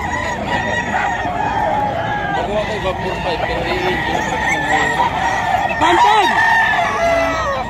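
White Kelso and other gamecock roosters at a crowded early-morning poultry and pet market in Bocaue, Bulacan, crowing repeatedly and clucking amid a dense din of many birds, with people talking throughout.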